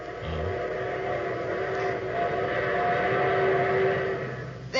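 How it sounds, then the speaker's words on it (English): A train waits at a station, with a long, sustained whistle tone held over a steady rumble of the railway, fairly loud and continuous, with no talk. "There's my train."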